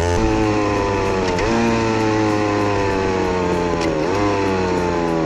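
Close, buzzy 50cc motorcycle engine drone drops in pitch twice as it shifts down, each change abrupt with a slight jolt and no rev blip between.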